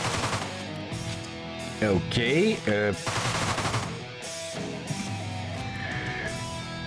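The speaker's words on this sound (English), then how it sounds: "They heard the gunshot, not the mine going off" Gunshots in the video game Deadbolt, rapid bursts of gunfire layered over the game's music and effects, loud and close, with a brief spoken word.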